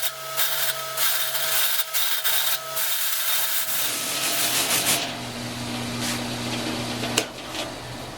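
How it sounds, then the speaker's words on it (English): A sanding mop spins against a wooden scroll-saw cutout for a toy chopper copter, a steady rubbing, whirring abrasion that starts thinner and grows denser partway through, with a brief sharp tick near the end. "Over here at the sanding mop, we're going to use that to clean up the fuzzies here."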